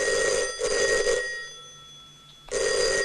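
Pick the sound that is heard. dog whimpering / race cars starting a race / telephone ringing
telephone ringing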